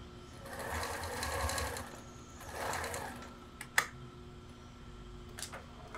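A sewing machine runs two short bursts stitching the first half-centimetre pass of a French seam on a crossover apron's shoulders, fairly quiet, followed by a few small clicks of handling.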